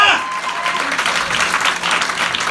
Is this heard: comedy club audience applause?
yes